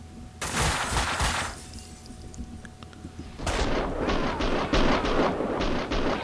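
Pistol gunfire in the video game Max Payne 2: a dense burst of rapid shots, a pause, then a second volley of loud, sharp repeated cracks close up with no talking.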